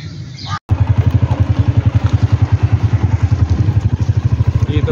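A motorcycle rides through a busy street in Karachi, its engine loud and close with a steady, pulsing mid-range putter throughout after a brief cut at the start, with a voice talking early on.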